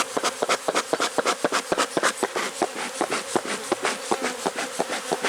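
Honeybees buzz at an open hive during an inspection, a dense close drone broken by rapid rhythmic pulses, loud and continuous with no speech.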